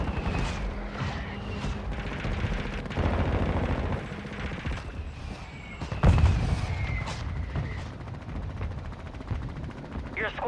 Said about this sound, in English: Requesting fire mission. Target marked. Copy that. Mortar strike inbound.